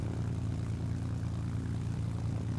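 Propeller-driven P-51H fighter plane engine in War Thunder, a steady droning buzz held at even loudness throughout with no voices.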